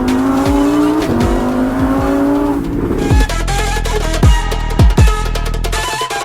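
A car engine revs loudly, its pitch climbing and dropping through several gear shifts, then blips sharply a few times near the end.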